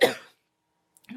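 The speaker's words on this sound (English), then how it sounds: "that was a crazy cough" A single sharp, forceful cough bursts out up close, followed by a brief silence and a faint voice starting to speak.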